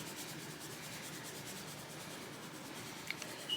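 Hands patting seasoned salt onto a raw pork belly, a soft continuous rubbing and dabbing texture, quiet and close, with no voices.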